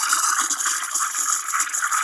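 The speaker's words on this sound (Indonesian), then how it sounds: "Ya, ini bunyi stretching yang benar seperti ini" An espresso machine steam wand stretching milk, a steady close hiss with fine bubbling and a high airy texture, continuous and without talk.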